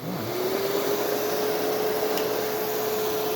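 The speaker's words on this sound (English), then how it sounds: "here comes the Kenmore Progressive in 3, 2, 1." A Kenmore Progressive vacuum cleaner runs on its low setting, a steady close motor whine with a rising tone as it spins up.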